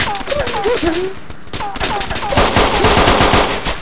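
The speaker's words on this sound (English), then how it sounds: "There was a straight barrage of ammo. Bullets going over his head." Sustained automatic gunfire in the video game Breach, a dense, loud barrage of rapid shots running without pause, with voices talking over it.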